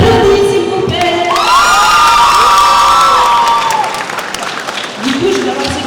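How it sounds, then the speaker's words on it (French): Loud crowd at a manga festival contest clapping, cheering and whooping, with high shouts and excited voices rising over the applause before it eases. "Les applaudis, s'il vous plaît."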